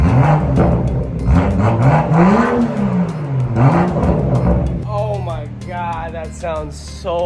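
A straight-piped BMW M2 engine revved hard several times up close, its loud exhaust rising and falling, before a person starts talking excitedly over the idling car near the end.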